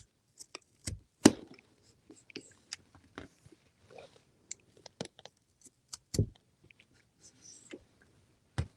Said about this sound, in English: And then use the knife to then cut the potato